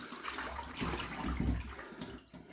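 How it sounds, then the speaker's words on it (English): Water tipped out of a second-hand Exo Terra reptile enclosure gives a soft, continuous splashing gush that lasts a couple of seconds and is faint and fairly close, with no talking. "tip the water out"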